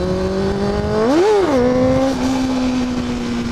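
A motorcycle engine holds a high, steady rev, surges sharply upward and drops back, then settles into a sustained high-RPM drone, close and loud, as the rider tries to pull a wheelie.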